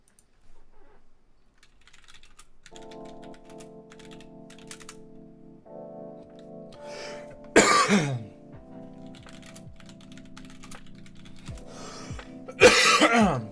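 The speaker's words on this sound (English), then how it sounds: "Those coughs are killing me today too" A person coughing in two loud, sharp bursts a few seconds apart, close to the microphone, over a low steady hum and soft keyboard typing clicks.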